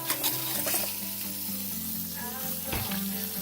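Sirloin steak searing in a hot cast iron skillet, a loud continuous sizzle and crackle with a few sharp spits and a brief clink of tongs.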